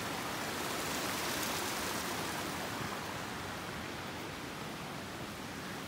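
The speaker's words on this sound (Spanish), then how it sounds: "Es agüita del estero Leonera." Water of the Leonera stream in the Yerba Loca area runs in a steady, broadband rush, close and even throughout, with no voices over it.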